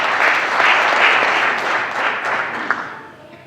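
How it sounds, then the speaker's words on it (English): Audience at a city council meeting breaks into applause, a full burst of clapping that swells early and slowly fades over a few seconds, heard alone without talking. "we applaud you for doing what you did."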